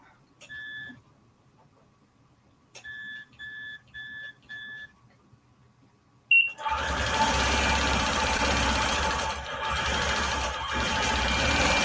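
A longarm quilting machine stitches a quilt in short bursts of tonal whirring with brief pauses, then runs steadily and louder for several seconds.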